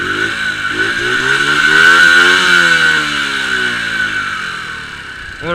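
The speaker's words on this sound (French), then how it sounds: "J'ai quand même un assez bon bruit pour une 50 je trouve." A 50cc Zhenhua Dax motorcycle with a derestricted exhaust runs after a kick start, its small engine buzzing steadily and loudly at close range, swelling slightly as it revs before settling, with no talk over it.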